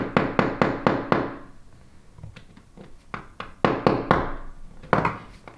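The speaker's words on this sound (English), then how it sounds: "Now I'm going to take the small hammer." A small hammer taps sharply on a metal Casio watch bracelet pin, first in a quick run of even strikes, then in scattered, irregular taps, close and crisp.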